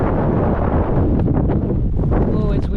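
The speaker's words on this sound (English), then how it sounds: "Oh, it's windy though." Strong wind in northern Oklahoma buffets the microphone, a steady roaring rumble throughout with faint hints of other sounds beneath.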